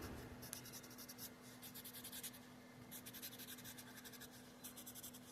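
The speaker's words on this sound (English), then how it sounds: "I'm too lazy to take out the silver colored pencil, so we're just going to make these pipes gold." A gold colored pencil scratches steadily across paper in repeated bursts of strokes, shading in pipes on a drawing, close and fairly quiet with a faint steady hum underneath.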